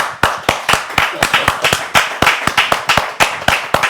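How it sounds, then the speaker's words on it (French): An audience at an inauguration event in London claps with loud, sharp, distinct hand claps in a fairly regular rhythm, about four per second, each one crisp and close. "On applaudit pour vous-même."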